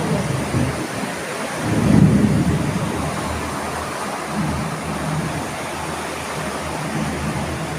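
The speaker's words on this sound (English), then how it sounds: "we knew it were going to rain, but we didn't know it were going to be this bad" Heavy rain roars steadily around a Yamaha XTZ motorcycle out on the road, with a low rumble of thunder swelling early on under the constant hiss.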